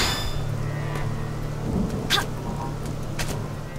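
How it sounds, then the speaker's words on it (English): A steady hiss of rain fills a Xenoblade Chronicles X thunderstorm, with a low constant hum underneath and a few brief sharp crackles of distant thunder. "It's a thunderstorm now"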